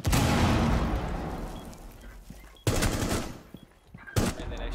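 Rapid gunfire from a Rainbow Six Siege match, a loud burst of shots at the start fading out, followed by two sharper separate bursts later, no talking.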